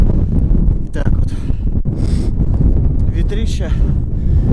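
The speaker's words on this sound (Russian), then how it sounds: "ветрища нереальный просто" Strong winter wind buffeting a microphone out on the ice during a fishing trip, a loud continuous roar and rumble with gusty flutter and scattered rustling knocks.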